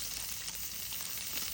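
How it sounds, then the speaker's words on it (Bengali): Chopped onion and green chilli sizzling in hot oil in a kadai, a loud, even, close hiss and crackle that runs without a break. "পেঁয়াজ কাঁচামরিচ কুচি দিয়ে দিলাম।"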